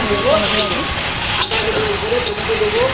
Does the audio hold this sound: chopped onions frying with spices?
yes